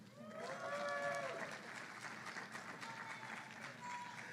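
Sustained applause from a graduation ceremony audience, steady and dense throughout, with cheering voices and a few shouted calls over the clapping.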